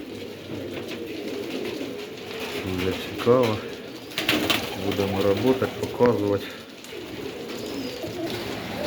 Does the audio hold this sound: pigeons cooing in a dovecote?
yes